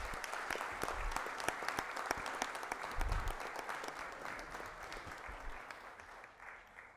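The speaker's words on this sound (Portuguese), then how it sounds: "Uma salva de palmas" Audience applause at a solemn session of the Medalha Tiradentes awards honoring favela associations, a dense sustained clapping that fills the room, fades slightly toward the end, with a brief low thump near the middle.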